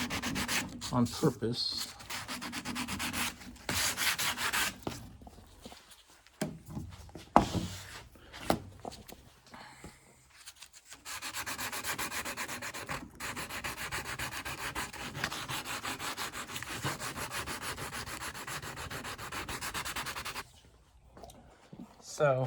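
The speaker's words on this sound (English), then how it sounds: "So that's how it looks after sanding that down" Hand sanding of body filler on a Porsche 914 rocker panel, rhythmic rubbing strokes in bursts followed by a long steady stretch of scraping, with a brief spoken phrase near the start.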